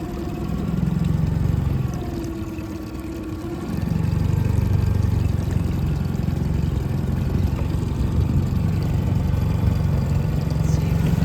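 A new outboard motor runs steadily on a small boat, a loud continuous mid-pitched drone that dips briefly, then returns with a rough, shaking hum throughout.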